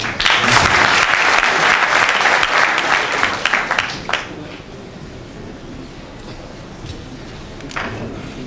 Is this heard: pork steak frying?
no